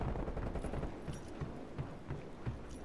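Light machine gun fire in the Call of Duty Cold War team deathmatch game, heard as a steady run of rapid, evenly spaced shots over a dense backdrop of other gunfire and noise.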